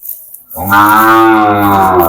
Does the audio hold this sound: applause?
no